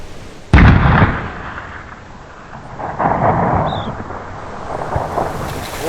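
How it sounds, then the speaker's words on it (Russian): One loud, sharp rifle shot cracks out and booms away into the distance across Kamchatka mountains during a sheep hunt, followed by a low rumbling echo and quieter noise. "Вот это самый первый выстрел."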